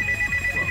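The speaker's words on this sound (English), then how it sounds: "Phone call." Short electronic telephone ringtone, a steady repeating high tone pattern sounding over background game music during a Battle Storm rhythm-game run.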